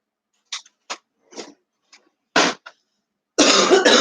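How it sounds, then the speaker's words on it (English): A person coughs in short, separate bursts, several sharp close coughs spaced apart in a quiet room, ending with a longer, harsher fit. "And I'm coughing."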